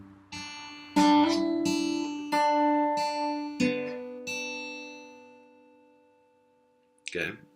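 An acoustic guitar slowly plays a part of a song, a handful of plucked notes and ringing open strings spaced a second or so apart. The last note fades away, then a brief unclear sound follows at the end.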